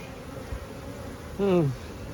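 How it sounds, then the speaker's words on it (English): A single honeybee buzzes loudly close by at the hive for a brief moment, its drone sliding down in pitch, against a quiet background. "where I think our cantankerous bees live"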